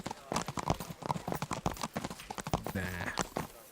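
Horse hooves clip-clop in a brisk, busy rhythm in the Kingdom Come Deliverance video game, close and clear, with a short tonal game sound near the end.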